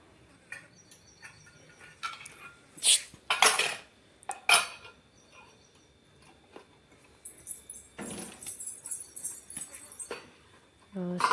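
Metal dishes and utensils being handled and set down at home, several sharp clanks and clatters in bursts between quieter stretches, with voices talking and faint insects in the background.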